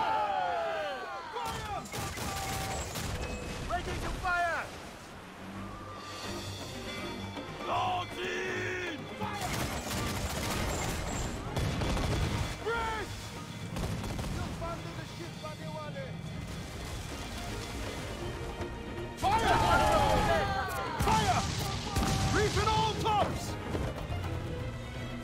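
Booming ship-mounted mortar fire at sea in Assassin's Creed IV: Freedom Cry, heavy blasts and crashes ringing out in bursts amid naval battle noise, with someone talking over much of it.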